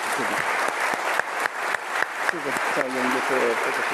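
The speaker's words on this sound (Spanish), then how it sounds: "yo le quiero dar un gran aplauso a Emilio por esta magnífica" Audience applause fills a conference hall at the close of a talk on artificial intelligence and family businesses, a steady, dense wash of clapping with a voice speaking over it.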